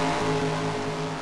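A pack of race cars in a racing video game roars past together, giving a dense, droning engine wash at steady volume with layered tonal whines.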